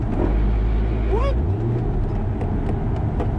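A 2006 Ford GT is driven past the listener, its engine roaring loudly up close with a short tire squeal, while a voice speaks over it.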